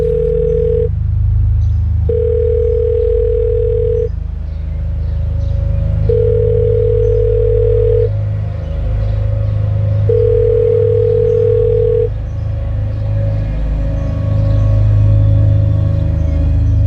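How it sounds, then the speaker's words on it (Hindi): A phone ringback tone sounds while someone calls a lost cellphone, with steady, evenly spaced beeps repeating over a low, continuous background hum. "रिंग बज रही है पर पता नहीं कहाँ पे रख दिया फोन"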